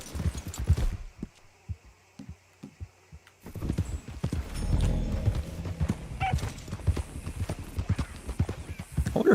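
Hooves clip-clop in an uneven gallop, and a horse neighs loudly partway through as the trotting continues close by, in Red Dead Redemption 2.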